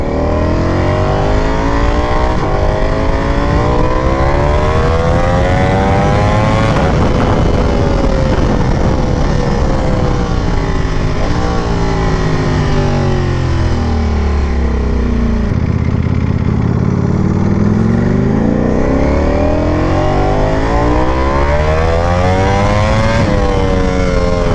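A Ducati V4R motorcycle engine runs loud and close, revving up and down in long sweeping rises and falls, with no voices.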